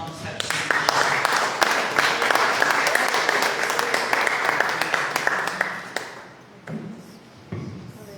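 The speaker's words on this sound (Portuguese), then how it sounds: "Uma salva de palmas para o Senhor" A church congregation at a Portuguese-language service claps together in a loud, dense burst of applause, which thins out and fades toward the end, leaving a few scattered claps and light sounds.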